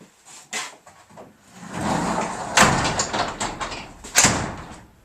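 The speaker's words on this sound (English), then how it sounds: "shut the door," A garage door rolls and rattles shut over a few seconds, ending in a couple of sharp knocks as it closes, fairly close by.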